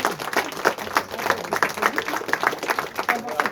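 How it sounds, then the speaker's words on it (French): Audience applause at an anniversary celebration, a dense, steady patter of many hands clapping at close range that holds for several seconds, with a voice faintly audible under it. "Alors profitons de ce moment pour vous applaudir."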